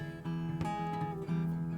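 Acoustic guitar playing the bridge of a song in a blended bluegrass style, with a couple of bright strummed chords ringing on, heard close and alone.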